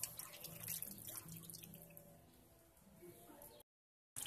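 Clean water runs out of the cooling system of a Fiat Scudo 1.9D diesel van during a flush, a steady close splashing stream with faint voices in the background, cutting off near the end.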